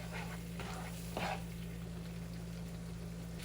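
Fresh garlic sizzling in melted butter while being stirred in a pan, a soft steady frying hiss with a few brief scraping bursts of the spoon.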